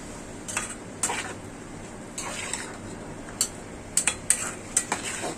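Vegetable stems tumble into a pot and get stirred while beef liver cooks in a home kitchen, with scattered metallic clinks and scrapes of a spoon against the pot over a soft sizzle, close and fairly quiet.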